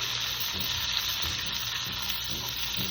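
Green beans seasoned with Creole spice sauté in a hot pan, giving a continuous close sizzle and crackle with faint stirring, with no talk over it.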